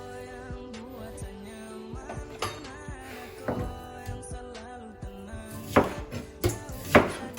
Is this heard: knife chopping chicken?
yes